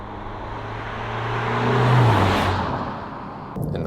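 An Italian car driven through winding corners gives a steady engine and road roar that swells to a peak and then eases off, heard alone without talk.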